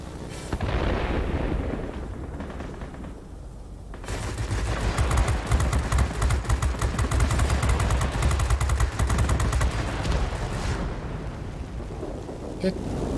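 Rapid aircraft machine-gun fire in World of Warplanes, a dense continuous burst of rattling shots over a low engine roar, loud and close, lasting several seconds before cutting off.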